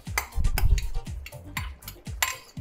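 A metal spoon stirs pork afritada with fried potatoes and carrots in a pan. The clinks and scrapes come close, irregular and quick, along with soft thuds of the chunks turning over.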